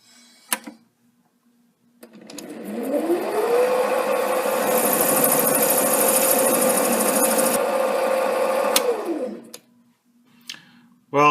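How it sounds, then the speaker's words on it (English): Mini lathe making a basic facing cut with a factory-made three-point carbide insert tool: the motor whines up, holds a steady loud cutting hum with a rising hiss for several seconds, then spins down, heard close with no talk. "we're going to just do a basic facing cut"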